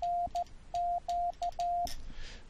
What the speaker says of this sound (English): And I have another separate application set up for Morse code.